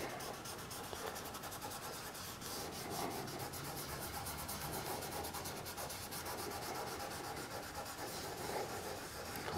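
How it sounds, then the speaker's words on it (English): Continuous close scratchy rubbing as a finger works charcoal into paper in small circles, a steady gritty texture with faint rhythmic pulses and no voices. "Then we're going to take our finger and we're just going to rub this in until it's totally black."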